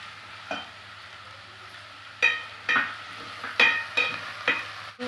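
Onions frying in a pan for a North Karnataka stuffed brinjal curry as curry leaves go in, with a steady low sizzle broken by several sharp bursts of crackling and stirring clinks, close and moderately loud.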